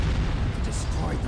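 Explosion destroying the radome in the Metal Gear Solid video game, a deep rumbling blast with crackling debris filling the short moment, loud and close, with a voice speaking over it.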